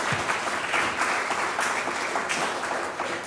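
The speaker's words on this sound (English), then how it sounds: "big cheer for Amanda as well" Sustained audience applause with scattered cheering at an evening festival show, a steady wash of clapping from a sizable crowd at moderate level with no talk over it.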